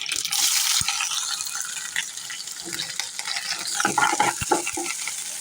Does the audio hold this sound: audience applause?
no